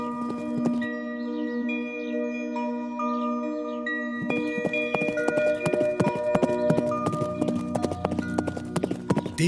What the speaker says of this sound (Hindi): दौड़ शुरू हुई, घोड़ा आगे बढ़ा।